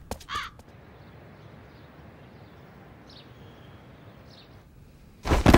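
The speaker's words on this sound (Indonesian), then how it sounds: "Sekarang ada masalah gagak di sini." Crows caw in an animated cartoon scene: a quick burst of caws at the start, a couple of faint distant calls in the middle over a quiet ambient bed, then a loud harsh flurry of cawing at the end.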